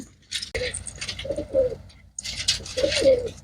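Pigeons coo close by in soft, throaty bursts, two distinct calls separated by a short pause, with faint rustling in the background.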